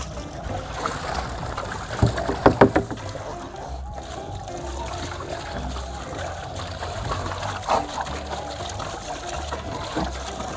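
Running water splashes and trickles steadily while dogs are bathed and rinsed, with a few louder splashy bursts early on and people talking over it throughout.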